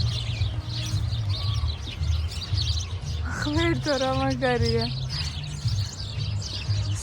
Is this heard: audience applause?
no